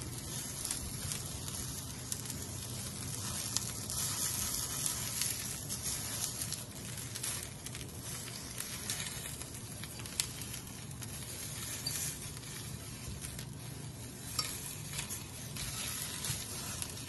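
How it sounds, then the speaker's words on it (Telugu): Eggplants roast over a low gas flame, with a soft, steady hiss and faint crackling and popping that goes on evenly throughout. "ఈ వంకాయల్ని మాడిపోకుండా మధ్యలో మధ్యలో తిప్పుకుంటూ లో ఫ్లేమ్లో కాల్చుకోవాలన్నమాట"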